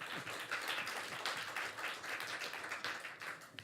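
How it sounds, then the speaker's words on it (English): Audience clapping and applause for a speaker at a climate education event, a steady wash of many hands, moderately distant and fairly soft, continuous for a few seconds. "put your hands together, clap for Florian"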